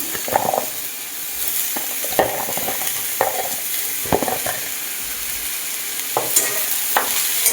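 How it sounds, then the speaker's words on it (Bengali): Chopped onions and pointed gourd sizzle steadily in a hot pan while a spatula scrapes and knocks against it in repeated strokes. No talking. "পেঁয়াজটা ভাজা হয়ে গেছে দিয়ে দেবো পটল কুচি"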